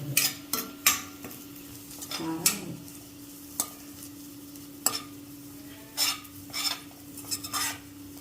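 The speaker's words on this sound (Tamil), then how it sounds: "தேங்காய் போட்டிருக்கு. ஆமாம், அதையும் செவக்க வறுக்கணுமா?" Grated coconut dry-roasting in a pan for a mixed seven-vegetable kootu, with intermittent scraping and stirring strokes of a spoon against the pan and occasional faint sizzling, fairly close and quiet, no talk.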